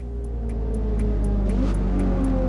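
Steady engine drone of a car in Forza Motorsport as it drives and pulls off to the side of the road, a loud continuous hum with a faint regular ticking above it.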